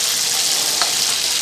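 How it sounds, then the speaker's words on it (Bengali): Momos fry in hot oil, a loud, dense, continuous crackling sizzle heard up close without pause. "তেলটা গরম হয়ে গেছে এবার আমি মোমোগুলো ছেড়ে দেবো এভাবে মোমোগুলো ছেড়ে দেবো তেলের মধ্যে"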